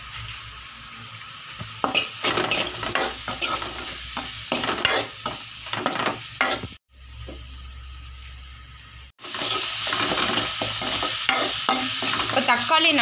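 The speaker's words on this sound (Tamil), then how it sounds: "இந்த மாதிரி தக்காளிலாம் நல்லா மசிச்சு விடுங்க" Tomatoes being stirred and mashed in a frying pan with salt and turmeric while cooking a roadside-style mushroom masala, giving close, repeated scraping strokes over a soft sizzle, briefly pausing midway, with no talking.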